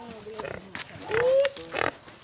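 Pigs grunting and squealing in a rural farm setting, short bursts of oinks with one rising squeal, close by amid outdoor talking voices.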